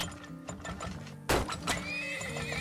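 A horse whinnies in the video game Turmoil, one bright, sharp neigh rising over mechanical clicking and ratcheting game sounds, loud and close with no talking.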